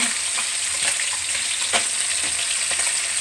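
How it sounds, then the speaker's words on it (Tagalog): Dalagang bukid fish sizzles and crackles in hot oil in a pan. The sound is close and constant, with occasional spatters and stirring. "Nagpiprito po ng aming pang-almusal."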